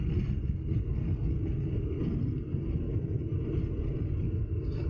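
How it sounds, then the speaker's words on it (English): A Harley-Davidson Pan America motorcycle climbs a twisty road in fourth gear, its engine a steady low rumble mixed with heavy wind roar and no break in the sound. "You can hear that motor there, at least I hope you can."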